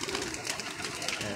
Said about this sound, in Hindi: लो जी, ये देखें, एक ये कबूतर आया हुआ है